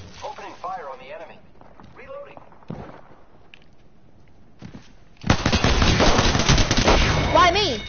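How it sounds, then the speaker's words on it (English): Video game gunfire starts abruptly as a loud, sustained rattling burst of automatic fire after a stretch of speech-like voices and lighter game sounds. "Opening fire on the enemy."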